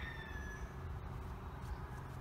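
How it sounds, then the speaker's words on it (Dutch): Several chickens in a cosy Dutch village in Spakenburg, faint clucking and calls carried over a steady low outdoor rumble, distant and continuous without talk. "Hoor je de kippen? Hier zijn meerdere kippen."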